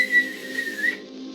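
Whistling accompanies a hero's entrance in a film scene, a thin, high wavering tone held for about a second over a low background hum before cutting off.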